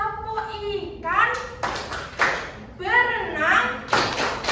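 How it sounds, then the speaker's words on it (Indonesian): Children in a classroom doing the tepuk ikan clapping game, sung chant punctuated by sharp rhythmic claps in unison, close and lively, with the voices carrying the tune between claps. "Kita tepuk fokus ya. Namanya tepuk ikan."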